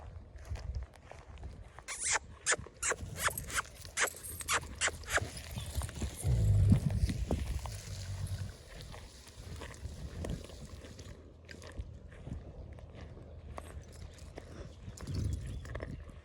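Hooves clip-clop on hard ground in a loose, uneven rhythm as several horses move about nearby, with occasional snorts and shuffling.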